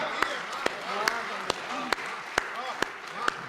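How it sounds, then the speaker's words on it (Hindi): Poetry recital audience at a kavi sammelan clapping in a steady, evenly spaced rhythm, sharp claps standing out over a murmur of voices and crowd noise. "एक बार जोरदार तालियां"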